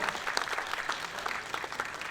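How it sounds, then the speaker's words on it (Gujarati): An audience at an anniversary celebration event breaks into applause, brisk and dense clapping from many hands throughout the short burst. "એક જોરદાર તાળી પાડો અમારા માટે."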